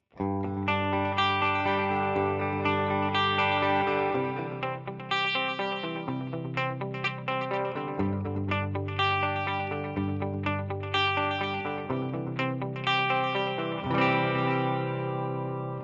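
An electric guitar through a Fractal AX8 plays sustained chords and arpeggios drenched in echoing delay, repeats smearing into each other, steady and full throughout with no voices.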